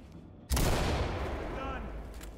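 A flashbang grenade goes off in the tactical shooter Ready or Not, one sudden loud bang after a brief quiet, followed by a long ringing, roaring tail that slowly fades.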